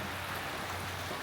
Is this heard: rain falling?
yes